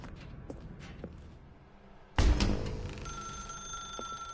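A telephone rings in a video game, starting abruptly after quiet footsteps in a dark room, a loud sustained electronic ring that continues to the end.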